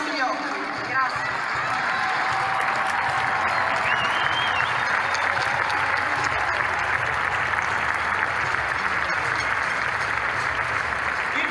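Sustained crowd applause at a street demonstration, a steady dense roar of clapping with cheers and voices mixed in, loud and unbroken for the whole stretch.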